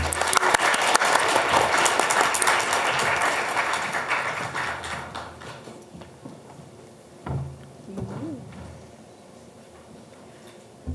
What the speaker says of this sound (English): Please give a round of applause for Tyler.